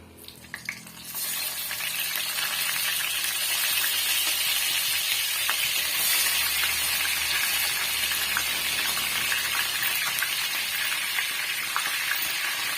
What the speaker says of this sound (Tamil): தக்காளி பழம் இந்த மாதிரி பாதி பாதி பீஸுகளை நான் கட் பண்ணி வச்சிருக்கேன் இது எண்ணெயில சேர்த்துடலாம்